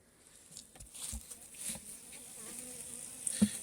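Faint buzzing of Primorsky honeybees drifting close by, with a few soft taps and one brief louder buzz passing near the end, over quiet background.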